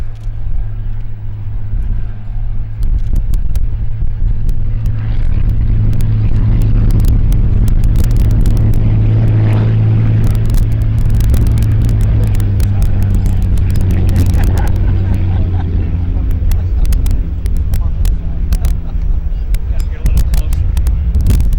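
A powerful engine of the U77 Miss Wahoo hydroplane racing boat roars steadily and loud for a long stretch at about 105 mph, with wind buffeting and thumping as the hull bounces over choppy water.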